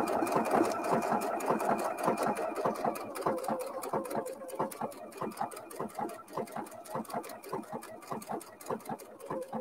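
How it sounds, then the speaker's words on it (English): A sewing machine fitted with a circular attachment stitches in a rapid, steady mechanical rhythm, close and moderately loud, easing to slightly sparser pulses toward the end. "So now I'm going to go and do the other petal."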